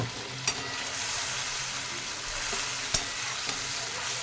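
Mustard and poppy seed paste masala stirred and frying in a pan for Bengali rui fish curry, a steady close sizzle with occasional soft spoon scrapes and clicks.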